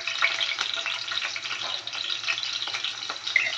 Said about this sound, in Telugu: ఆయిల్లో మరిగే లోపలికి పచ్చిమిరపకాయలు వేసావు